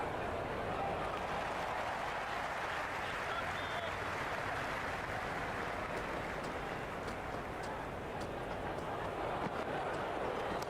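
A stadium crowd in the Cricket 26 video game, at a one-day India versus South Africa match, keeps up a steady wash of applause and cheering. The sound is faint and continuous, with scattered sharper claps.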